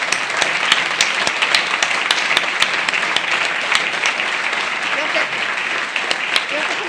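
Audience applause at a business management event, dense and loud crowd clapping that holds steadily throughout, with a few sharper individual claps standing out.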